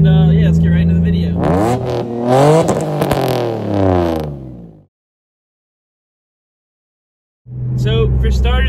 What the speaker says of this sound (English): So I'm taking the Eclipse out for a rip right now.